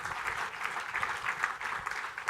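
Audience applause at a conference talk during a corporate annual event, a steady, dense wash of many hands clapping with no voices over it, holding level throughout.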